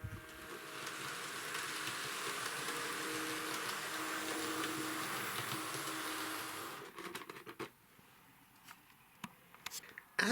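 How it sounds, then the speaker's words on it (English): Constant buzzing hiss from a Hornby train set controller while a model train accelerates, sustained for several seconds, then cutting off to quieter clicks and faint rattling handling noises. "the buzz doesn't go away when the train accelerates either"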